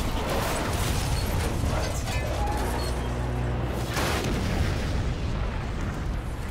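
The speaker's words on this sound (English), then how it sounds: "Oh, I didn't expect explosions like that." Explosions in the Spider-Man PS4 video game form a dense, rumbling roar of booms and crackling debris, loud and continuous with a few louder bursts.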